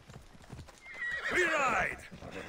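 A horse in Assassin's Creed Odyssey whinnies loudly with a rising, wavering call, accompanied by rhythmic hoofbeats clopping underneath, all with a synthetic game-like quality.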